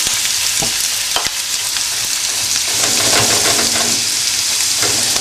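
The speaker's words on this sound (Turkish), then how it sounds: "Şimdi doğramış olduğum soğanları içine koyuyorum." Chopped onions sizzle and crackle steadily in hot oil and butter, loud and close, with a few stirring clatters.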